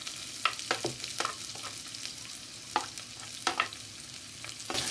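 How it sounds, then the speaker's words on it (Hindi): Capsicum frying in ghee in a kadhai gives a steady close sizzle, broken by sharp, irregular scrapes and knocks of a spoon stirring, with no voices. "कढ़ाई में हम घी डालेंगे। इसमें हम शिमला मिर्च डालेंगे पहले,"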